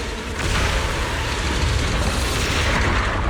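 A continuous loud roar of rumbling explosions, dense and sustained without pause, in a final boss battle in the video game Zenless Zone Zero.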